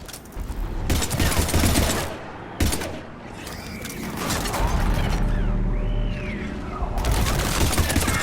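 Bursts of gunfire from a Mass Effect 3 firefight, with rapid shots crackling in loud clusters and brief pauses, plus mechanical clanks and whirring in the background.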